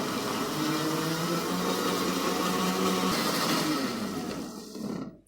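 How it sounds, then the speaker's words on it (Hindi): An electric chopper grinds minced meat (keema) in a steady, loud, continuous motor whir that holds for about four seconds, then winds down and stops near the end. "अब थोड़ा थोड़ा कीमा हम इसमें डालते जाएंगे और अच्छी तरीके से इसे पीस लेंगे।"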